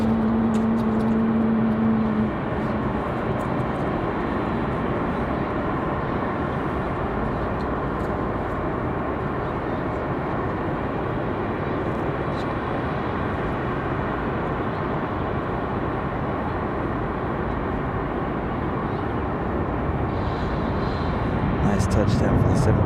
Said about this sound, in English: Nice touchdown for the 7378.